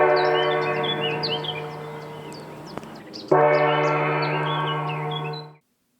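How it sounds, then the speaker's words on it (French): A bell rings in the surroundings of a Buddhist monastic centre in France, a sustained steady tone with a strong low hum and overtones lasting several seconds, dipping briefly midway and then swelling again before stopping abruptly. "J'ai vaguement entendu une cloche."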